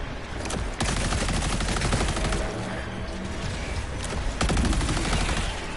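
An orbital barrage strike in the video game Helldivers 2 pounds down as a dense, loud volley of explosive blasts and rapid gunfire-like bursts, with sharp heavy impacts near the start and again toward the end.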